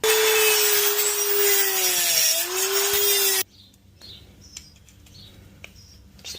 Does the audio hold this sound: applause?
no